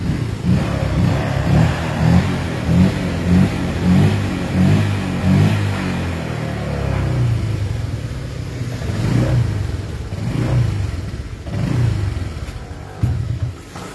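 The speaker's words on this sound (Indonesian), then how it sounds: "Nah, ini hidup. Motornya hidup kembali." A Honda Vario 125 scooter, which keeps blowing its 25-amp fuse, runs again after stalling: its engine idles close by in a steady, slightly pulsing hum with occasional rises in revs.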